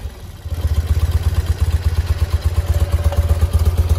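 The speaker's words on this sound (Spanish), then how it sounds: "arrancamos la moto" A BMW R100 Brat Style cafe racer motorcycle engine catches after a brief pause and settles into a steady, close, rhythmic thumping idle.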